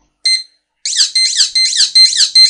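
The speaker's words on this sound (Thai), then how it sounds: "นะไม่ว่าจะเป็นเสียงปี๊บเสียงไซเรนนะเสียงรถดับเพลิงเสียงรถพยาบาลอะไรก็แล้วแต่นะครับ" A PIC microcontroller program produces an electronic siren tone: one short beep, a pause, then a run of rapid, bright warbling sweeps repeating about every quarter second. It is loud and clean against total silence.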